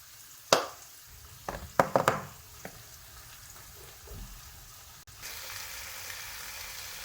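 Potatoes frying in a pan with turmeric, coriander powder and red chili, giving a steady soft sizzle throughout, broken by a few sharp clacks and stirring knocks early on, with the hiss rising again near the end.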